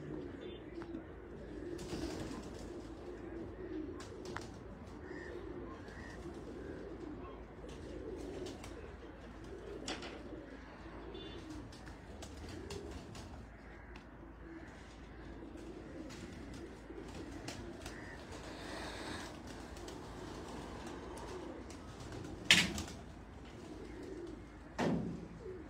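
Kajal pigeons coo softly and repeatedly in a loft, low and continuous under background noise, with a few faint clicks and bumps.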